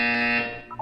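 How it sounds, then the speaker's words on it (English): A buzzer in the video game Portal 2 sounds one loud, steady electronic tone that holds, then fades, heard up close with no talking. "When you hear the buzzer, look down at the floor."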